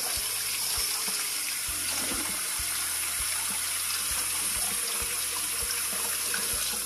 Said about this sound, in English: I like to get some hot water going.